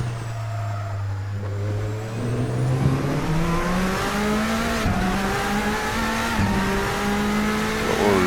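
Bentley Speed 8 race car in Assetto Corsa at Monza, its engine droning steadily and climbing through the gears as it runs a lap. A loud, continuous in-car roar rises in pitch with brief dips at the shifts.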